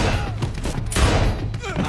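Gunfire and impacts in a doorway shootout from the action movie Taken, a dense burst of shots and heavy thuds mixed with chaotic noise, loud and close throughout.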